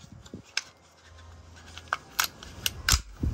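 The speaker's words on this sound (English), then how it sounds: "Let me just lock the bolt back here for you." A BRN-180 rifle is handled and its bolt locked back, giving a series of small sharp metallic clicks and snaps, close and fairly quiet, spread irregularly over a few seconds.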